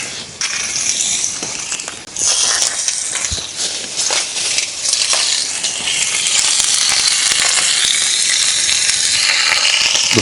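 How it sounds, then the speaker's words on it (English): Steak sizzles on a hot grill at a weekend camp, a steady broadband hiss and crackle that runs loud and close for the whole stretch, with small pops and shifts in texture as the meat sits on the heat. "The sound of steak sizzling to a man is like the sound of a handbag sale to the ladies."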